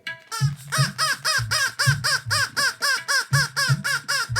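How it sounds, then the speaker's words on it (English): A cartoon crow squawks loudly in a rapid series of about fifteen harsh, evenly spaced caws, close and insistent with no pauses. "The father crow started to squawk really loudly."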